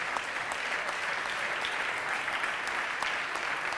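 Steady, dense applause from a conference audience, a sustained crowd of clapping hands at even loudness throughout with no voices breaking through.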